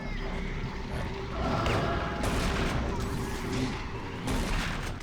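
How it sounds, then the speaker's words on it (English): A shotgun in a video game firing among general game noise, a few heavy booming blasts spaced a second or so apart over a busy, roaring background. "Time for the worst shotgun in video game history."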